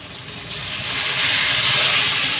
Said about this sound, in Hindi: अब इसमें हम पानी ऐड करेंगे थोड़ा सा।